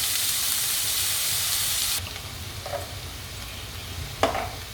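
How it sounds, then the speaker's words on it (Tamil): Sliced onion and garlic sautéing in a pan for South Indian mutton kothu kari give a steady close sizzle for about two seconds, then it drops to a quieter simmer with a couple of faint clinks. "இந்த வெங்காயம் வதங்கிடுச்சு."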